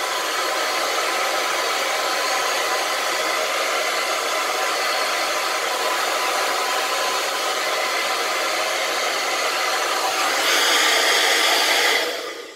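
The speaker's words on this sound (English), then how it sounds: "You just want to roughly blow dry, taking your fingertips through the hair" A hair dryer blows steadily and loudly on a non-surgical hair replacement system, a continuous close whoosh that holds its tone throughout, with a brief shift in airflow near the end before cutting off.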